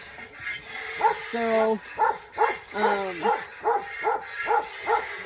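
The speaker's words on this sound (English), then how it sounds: "Oh, that dog." A dog on a farm barks repeatedly in an even rhythm, loud and fairly close, with a few whimpering yips mixed in and a person speaking briefly.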